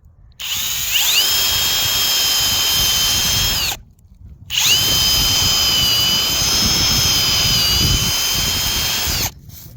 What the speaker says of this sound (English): You're going to drill at a slight angle so that the sap comes down.